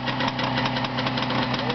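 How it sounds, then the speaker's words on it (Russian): Car engine running steadily with a rough mechanical whine and rattle from a noisy gearbox, heard up close, continuous and fairly loud throughout. "Коробка создает звук."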